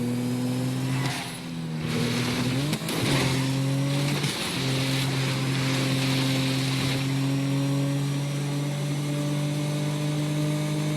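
Car engine in GTA 5 gameplay: a steady, loud droning hum holds throughout, with a couple of brief revving dips and shifts near the start, and no talking over it.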